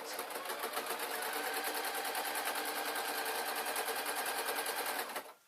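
Sewing machine stitching soft dress fabric for a period-style gown, a rapid even mechanical rattle running continuously until it stops near the end, close and alone.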